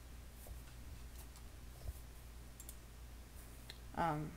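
A computer mouse clicks a few times, faint and close, over steady low background hum while someone works in image-editing software, with a brief spoken phrase at the end.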